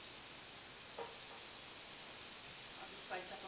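Apple slices frying in oil in a warm pan give a steady, quiet sizzle and hiss throughout, with a couple of faint clicks from the pan.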